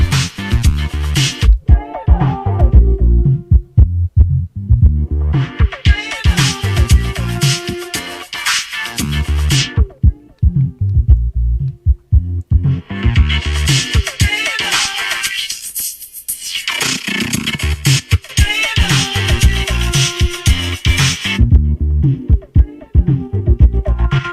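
A looper performance built on repeating layered beats and tones, with a cutoff filter sweeping the sound darker and brighter and a noise gate chopping it into bursts that cut in and out across the passage.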